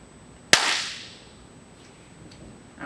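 One sharp hand clap in a quiet space, loud and close, with a short decaying tail into near silence afterward.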